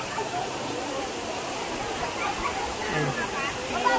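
Daranak Falls waterfall pours in a steady, broad roar from a short distance, constant and full throughout, with faint voices of people mixed into the rush.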